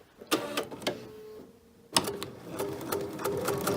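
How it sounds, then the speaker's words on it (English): A sewing machine stitches a quilt binding seam in quick mechanical bursts, with a run of stitching, a short pause and then a longer, steady stretch of close, clear whirring. "So I'm going to stitch this now."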